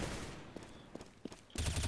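Gunfire in the video game CS:GO, a few spaced shots followed by a loud rapid burst at the end, with game ambience underneath.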